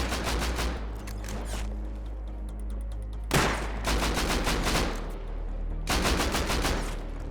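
Suppressing gunfire in the survival game Rust, several bursts of rapid shots fired in clusters with brief gaps between them, moderately loud against a low background rumble.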